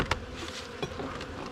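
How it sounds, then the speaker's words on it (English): Close, steady buzzing of many honeybees in a hive with brief louder passes as individual insects fly near. "plenty of bees in this one."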